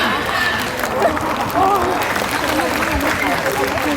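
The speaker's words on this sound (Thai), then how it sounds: "ขอเสียงปรบมือให้ท่านค่ะ" Applause from a crowd, a dense patter of clapping with voices mixed in, steady and fairly loud.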